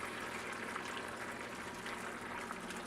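Water poured into a sauce while making chicken nuggets, a steady liquid rush and splash lasting a few seconds at moderate level with no talking.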